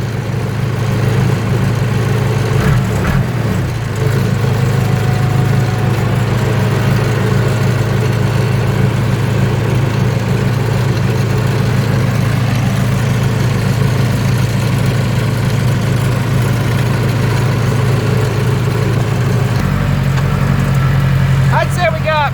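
Case 580K backhoe engine idling, a steady loud low diesel rumble and vibration throughout, close by, with a voice talking over it at times.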